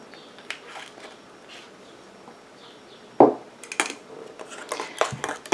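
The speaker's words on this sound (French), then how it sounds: "Et je mélange." Stirring a homemade hair conditioner mixture for fragile hair in a small container: sparse light scraping and clinking of a utensil against the vessel, quiet at first, then a sharp knock and a run of busier clicks and taps.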